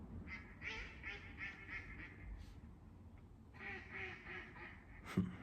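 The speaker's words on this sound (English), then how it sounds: "I'm about to smack up that duck." A duck quacks in a rapid run of nasal, honking calls, then pauses and quacks again in a second burst, fairly near and faint, with no talk over it.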